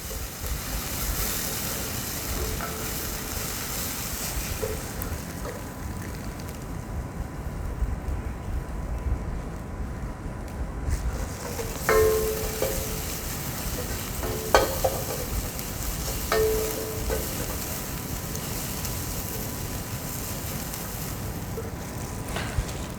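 Onions frying with pepper in a pan, a steady broadband sizzle with scraping stir strokes and occasional utensil clinks against the pan, continuous throughout with no talking.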